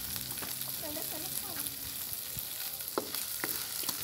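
Rice sizzles and fries in a pan with a squeeze of lemon juice, heard up close as a steady crackle broken by occasional stirring scrapes and clicks.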